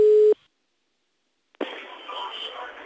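A short steady telephone line tone opens a phone call, then cuts to a brief silence before a faint line crackle and a voice come in.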